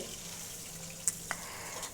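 Pieces of bhola fish fry in oil with a quiet, steady sizzle, broken by a couple of brief pops or clicks.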